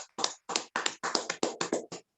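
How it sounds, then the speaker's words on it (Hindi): Audience clapping at a women's leadership team gathering, a quick run of about ten sharp, separate claps in steady rhythm, close and fairly quiet, with no talk. "इन सभी गुरुदेव के सम्मान में एक बार मैं सभी से डिजिटल एवं फिजिकल तालियां चाहूंगी"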